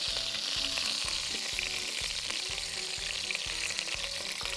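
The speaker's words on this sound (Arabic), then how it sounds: "على طول بقى عايزين نحط اللحمه تتحمر" Meat sizzles and fries steadily in a hot pot. A continuous bright crackle runs throughout with a regular, faint rhythmic knocking underneath.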